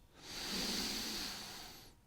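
A long, steady breath drawn in through the nose during a yoga stretch, close and soft with an airy hiss that swells and then eases off.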